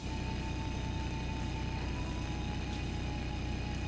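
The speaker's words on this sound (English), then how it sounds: "God, I love the motorcycle for moments like this." Motorcycle engine riding in the video game Trails of Cold Steel II, a steady droning hum under a constant noisy wash with no voices.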